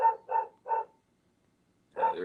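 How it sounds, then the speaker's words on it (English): Dogs barking: three quick, evenly spaced barks, a pause of about a second, then one more bark, close and clear against a quiet room. "Sorry for the dogs."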